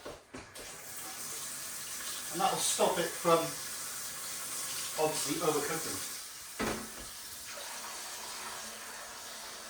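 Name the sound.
water tap filling a pan with cold water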